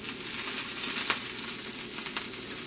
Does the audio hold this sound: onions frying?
yes